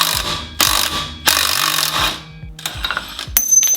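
Impact gun with a 17 mm socket hammering at the lower shock bolt on a 30-year-old Land Cruiser during a shock swap: several loud, close rattling bursts of varying length separated by short pauses, with no talk.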